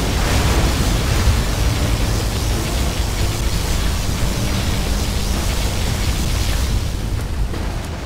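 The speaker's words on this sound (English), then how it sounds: "Our particle cannon has been activated." A particle cannon strike in the strategy game Command & Conquer Generals Zero Hour, heard as a loud, continuous broadband roar with deep rumbling blasts that hold steady throughout before easing slightly at the end, with no voices.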